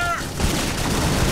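Rapid gunfire from the first-person shooter Jericho, a dense continuous fusillade of shots filling a short burst, close and loud with no pauses.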